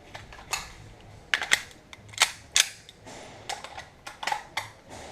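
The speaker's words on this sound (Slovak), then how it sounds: "Strelec, nabíja, priprav sa." A handgun is loaded by a shooter at a practical shooting (IPSC) competition stage, giving a string of sharp, irregular metallic clicks and clacks up close, with no talking.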